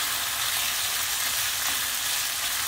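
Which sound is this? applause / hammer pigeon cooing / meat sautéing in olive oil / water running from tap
meat sautéing in olive oil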